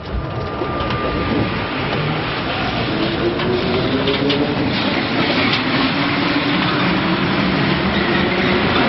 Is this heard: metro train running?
yes